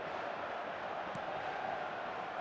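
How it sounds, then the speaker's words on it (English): A football crowd in the eFootball video game roars steadily as a constant, dense wash of noise, with no clear peaks. "the crowd are reacting to that now"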